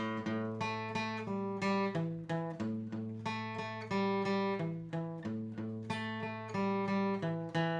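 Guitar runs a 12-bar blues boogie bass line in A in even, straight eighth notes, steady and unswung, played alone at moderate volume.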